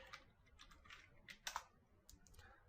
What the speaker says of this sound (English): So I'll just go ahead and type